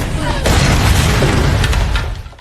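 A grenade explosion in a brutal action film about a guard fighting ruthless robbers: a sudden loud, broadband blast that hits hard and rumbles on densely for about two seconds before fading, with a hint of voices underneath.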